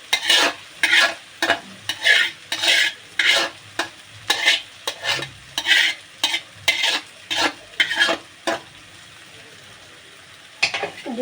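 Fried eggs stirred into a sizzling kadai, with rhythmic scraping strokes roughly twice a second over a steady sizzle, then a pause of quiet before stirring resumes.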